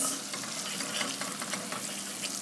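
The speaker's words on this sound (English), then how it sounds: "I'm going to add some oregano to it, like 1 teaspoon, and fry that for a few seconds" Oregano fries with a stock cube in a pan, giving a soft, steady sizzle and crackle with light stirring and no voices.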